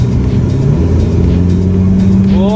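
A Ferrari F8 driven in Dubai accelerates hard, its engine note holding a steady loud drone before rising sharply in pitch near the end as revs climb, close and continuous.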